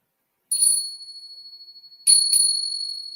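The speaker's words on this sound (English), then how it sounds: "What do we think about the chimes?" Chimes ring out in two separate strikes, each a bright sustained metallic tone that rings on and slowly decays, the second strike louder and followed by a lingering shimmer.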